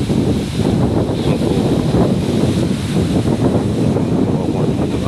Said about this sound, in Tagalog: so malakas pa rin po ang alon